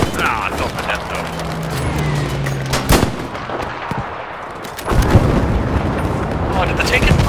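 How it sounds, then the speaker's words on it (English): A video-game tank gets hit by an airstrike, heard as loud, dense rolling blasts and gunfire that crack and rumble throughout, with heavy booms near the start and again around the end while players talk over the battle. "Oh, did the tank get blown up? Yeah, everything got blown up."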